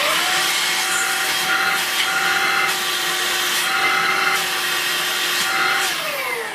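A Vax Air Cordless Handheld H85-ACH-BD 20V vacuum cleaner runs steadily with a close, loud motor whine and airy rush, its pitch shifting slightly as it is moved, with no talking.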